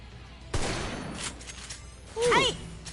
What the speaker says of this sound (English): I'm shooting them with a sniper rifle